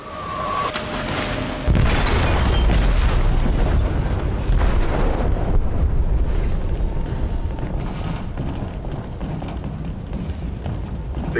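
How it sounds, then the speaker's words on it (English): A loud, deep explosive detonation booms through a ship's hold, followed by a sustained rumbling roar and debris noise that slowly fades across several seconds, with no voices. "They detonated an explosive in the hold."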